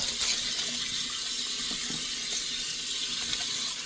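Steady warm water running from a tap, a soft continuous hiss with faint splashing, no voices.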